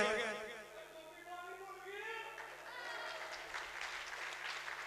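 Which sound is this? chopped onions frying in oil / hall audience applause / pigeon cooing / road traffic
hall audience applause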